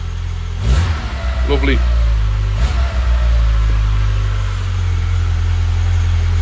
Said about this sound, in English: Just give it a tiny little blip, but I'm not certainly going to be revving it hard.